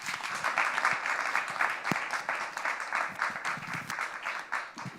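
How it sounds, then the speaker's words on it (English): An audience applauds steadily after a call for a round of applause at an event on the state of Black America, dense clapping holding for the full five seconds at moderate level with no one speaking over it. "I think y'all should give them a round of applause"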